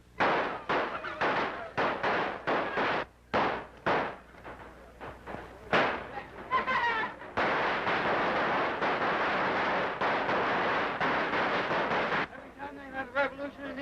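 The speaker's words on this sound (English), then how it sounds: "Gunfire! Cannons! It's revolution!" Cannon blasts and gunfire from a 1934 comedy adventure film, with a run of sharp, loud bangs early on that give way to a sustained roar of shooting and crowd noise, and voices mixed in.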